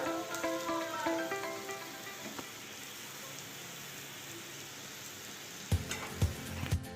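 Paneer sizzles and fries in a pan as it is turned, starting with a bright crackling burst that settles into a soft steady hiss, then a few sharp clanks of a utensil near the end.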